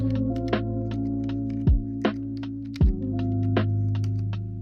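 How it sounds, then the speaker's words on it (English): Soft, sparse key clicks from an RGB Claim Chroma wireless keyboard in black, a relatively quiet budget board, tapping irregularly at close range with a few heavier thuds among the lighter presses. "The keyboard I use is this RGB Claim Chroma wireless keyboard in black."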